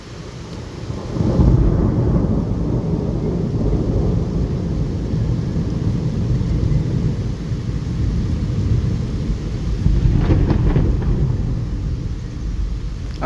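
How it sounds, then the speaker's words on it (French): Heavy rain pours steadily during a violent thunderstorm in Bordeaux while deep thunder rumbles in early on and another loud thunderclap crashes near the end. "Vous avez entendu le tonnerre à la fin, il a claqué."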